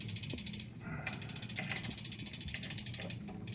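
A ratchet wrench clicks in rapid bursts while tightening chainring bolts on a bicycle crank, quiet and close, several short runs of fine ticking separated by brief pauses.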